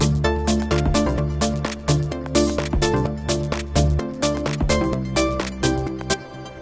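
A trance arp pluck synth in FL Studio plays quick rhythmic plucked chords in a steady pulsing pattern over a bass line, loud and alone, with the rises and dips of each plucked note clearly spaced.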